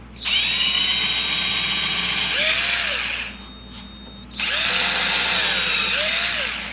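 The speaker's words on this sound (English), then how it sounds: "this has got a self-centering tip on it with a very tiny drill bit" A power drill with a tiny self-centering bit whines in two bursts, pitch dipping as it bites into a hinge for a pilot hole, with a short quieter pause between them.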